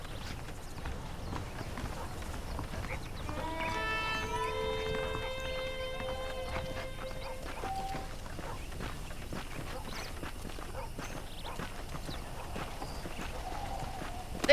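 Horse hooves clip-clop in a steady walking rhythm in the video game Red Dead Redemption, over a constant background bed, with a brief tonal chime partway through.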